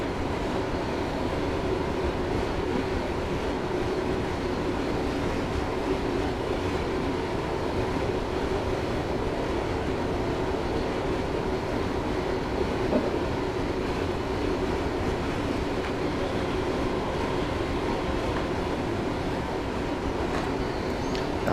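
Class 321 electric train coasting with power idled in Train Simulator 2017, a constant loud rolling rumble and wheel noise with a faint steady tone, unbroken and close, no talking.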